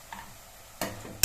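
Cashews sautéing with salt in a pan for North Indian paneer gravy make a faint, soft sizzle, then two sharp bursts of clatter and frying noise near the end.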